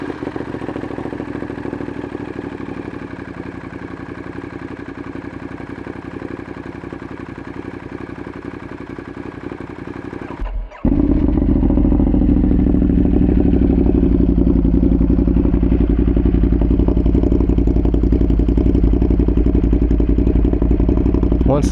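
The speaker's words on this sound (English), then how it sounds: "let's fire up the bike." A motorcycle engine starts with a sudden jump in loudness, then settles into a steady, loud, rumbling idle that continues to the end.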